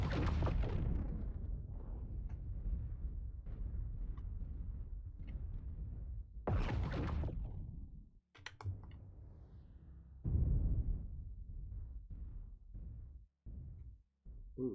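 Heavy plasma cannon blasts in a competitive video game match, booming repeatedly in loud bursts with brief gaps, dense and forceful across the whole stretch.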